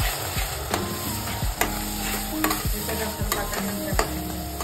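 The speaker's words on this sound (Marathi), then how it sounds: "हे चांगलं फ्राय करून घ्यायचं।" Green chili and garlic paste frying with turmeric in a pan, a steady close sizzle broken by several sharp scraping stirs of a spoon.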